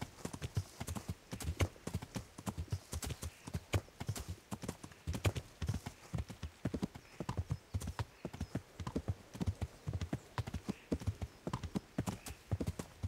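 Horse hooves clip-clopping steadily while riding in the medieval role-playing game Kingdom Come: Deliverance, a brisk regular rhythm of close, clear hoofbeats lasting throughout with faint ambient background.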